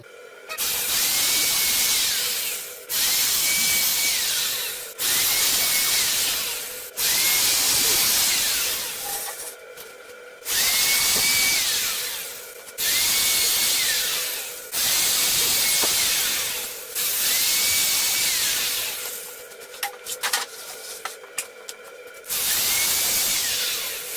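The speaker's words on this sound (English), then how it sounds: "I'm using a number 8 coarse thread screws, and I'm using a 7/64 drill bit." Repeated bursts of a power drill pre-drilling wood with a 7/64 bit, about ten runs of a couple of seconds each separated by short pauses, close and loud.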